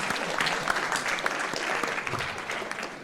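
Crowd applause at a TwitchCon panel, a dense, continuous burst of many hands clapping that holds steady throughout, loud and close with no voices standing out.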